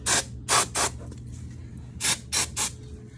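Short hissing sprays of starting fluid from an aerosol can on a mower, three quick bursts, a pause, then three more, close up.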